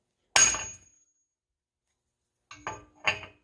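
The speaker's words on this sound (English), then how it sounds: "So I'm going to give it a few more whacks here in the middle." Three sharp metallic hammer whacks pound out a ball joint on a 1990–1993 Honda Accord during a hub and rotor job, one loud strike followed after a pause by two closer-spaced blows.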